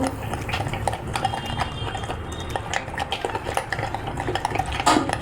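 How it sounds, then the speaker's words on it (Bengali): A spoon stirs yogurt with mustard oil in a bowl, giving a continuous close scraping and clinking with soft wet squelches and a steady, busy rhythm. "দইটা এখন তিন টেবিল চামচ নিয়েছি আর সাথে একটু সরিষা তেল দিয়ে দিই এবার ভালো করে মিক্সড করব"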